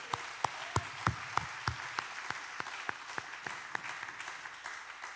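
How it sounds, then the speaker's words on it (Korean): A church congregation at a Friday evening worship service in Busan claps together, with sharp irregular claps rising and thinning out over several seconds in a reverberant hall. "놀라운 선포에 한번 같이 박수합시다."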